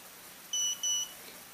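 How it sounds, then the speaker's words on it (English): A ContourHD helmet camera gives two short, quiet electronic beeps in quick succession as recording stops, alone over faint background hiss. "To stop recording, you slide it back, and it will beep twice."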